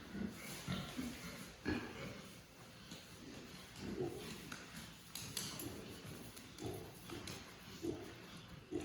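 Pig raised for 4-H grunting in short bursts at its pen before washing, a series of low snorts and grunts spread across several seconds over a steady background hiss, fairly close.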